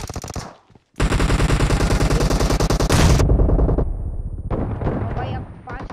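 Rapid automatic gunfire from the mobile shooter Battlegrounds Mobile India, long loud bursts of tightly spaced shots after a brief pause, with fainter distant fire and some talking.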